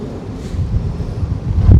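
Strong wind buffeting the microphone outdoors while wild honey is being poured, a loud, low, gusty rumble that rises toward the end, with no speech.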